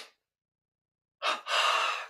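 Two sharp, breathy inhales in quick succession during a breathing exercise, close and clear against silence, the second longer and fuller than the first.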